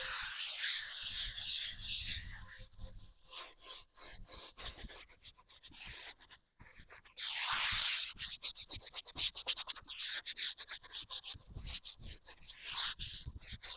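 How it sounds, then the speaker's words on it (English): A big scrub brush works over a garden birdbath in bursts of harsh, rasping strokes, some sustained and others quick and choppy, close and fairly loud, with no talking. "I'm going to grab my scrub brush, my big one, and I am just going to give it a good scrub"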